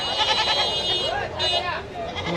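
Goats bleat at a busy rural livestock market in Bangladesh, with wavering calls rising over crowd chatter and people talking nearby.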